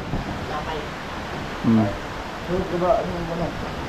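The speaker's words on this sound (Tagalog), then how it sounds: "Malakas-lakas na yung bagyo." Strong super typhoon wind during landfall on Burias, Masbate, a steady rushing roar under nearby voices talking, with the wind noise constant throughout the short stretch.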